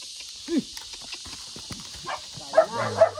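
A horse walks on a lead rope at a farm, giving a few soft, irregular hoof thuds spaced through the stretch, fairly faint and near, with scattered voices and background noise.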